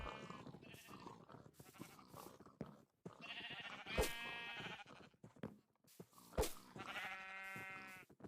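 Sheep bleat repeatedly in a modded Minecraft game, several short wavering calls interspersed with clicks and game sounds, moderately close and quiet overall.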